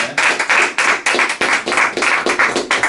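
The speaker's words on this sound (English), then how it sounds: "Give him a round of applause for that." Applause from close by: about a dozen sharp claps in a quick, steady rhythm, with no voices.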